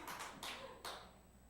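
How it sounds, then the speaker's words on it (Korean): A church congregation at a Sunday service gives a short round of clapping, three or four quick loud bursts that fade to a quiet tail, with no talking over it. "박수 한번 칩시다."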